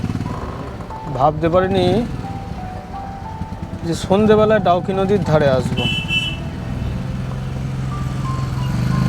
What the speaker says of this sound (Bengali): পুরো জ্যামের মধ্যে আমরা ফেসে গেছি